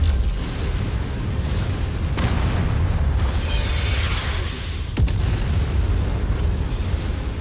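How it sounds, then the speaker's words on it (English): Artillery strikes explode in the MechWarrior 5 video game, a sustained rumbling barrage with booming impacts and a sharp crack midway, loud and continuous with no talking. "This artillery is like right on every time."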